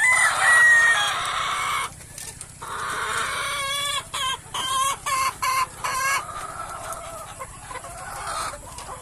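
Laying hens cluck and squawk in short bursts, with a rooster-like call among them, close by in a noisy farmyard.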